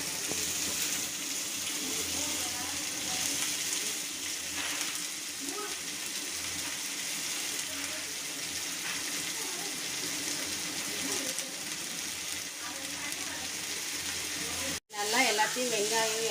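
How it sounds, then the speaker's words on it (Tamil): Sliced broad beans and onion sauté in a pan with a continuous, even sizzle and occasional stirring sounds, and a short burst of voice near the end. "எல்லாம் நல்லா மிக்ஸ் மிக்ஸ் பண்ணிக்கோங்க நல்லா கொஞ்சம் நேரம் வதங்கட்டும்"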